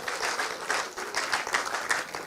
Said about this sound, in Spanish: vamos a un aplauso a las mujeres de vida eterna